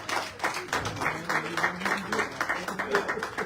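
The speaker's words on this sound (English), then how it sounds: "Let's give him a strong round of applause." Audience applauding at a Black Men's Movement gathering: dense, continuous clapping fills the room, with a voice speaking over it.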